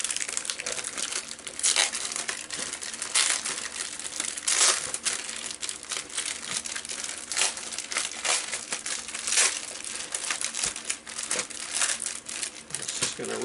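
A plastic bag from a LEGO haul is torn open with steady, close crinkling and crackling that rises in louder bursts across the whole stretch.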